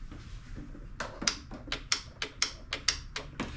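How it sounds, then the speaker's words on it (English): Starter solenoid on a Cub Cadet XT1 riding mower clicking repeatedly as the key is turned on, about nine sharp, close clicks in a steady rhythm over a low hum. "I'm gonna make sure this solenoid is clicking."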